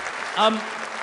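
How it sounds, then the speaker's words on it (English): Audience applause at a Reform UK political event, a short burst of clapping with a voice rising briefly over it in the middle. "Give him a round of applause."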